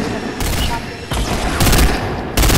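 Automatic gunfire in the Fortnite video game: loud, close bursts of rapid shots in about three volleys separated by brief quieter gaps.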